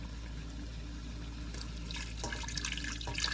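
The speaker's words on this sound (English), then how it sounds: "Now we're adding water, enough to cover the rouladen by about 1/2 inch." Water runs steadily into a pot of rouladen, a continuous splashing pour that grows louder and brighter toward the end.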